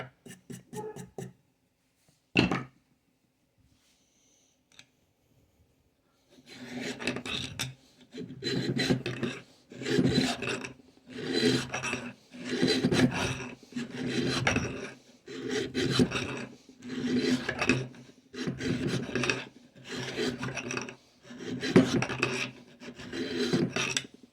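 A hand file rasps on the soft aluminum height-adjustment threads of a Hitachi table saw, starting with a few isolated scrapes and then settling into a steady run of about a dozen rhythmic back-and-forth strokes, close and clear.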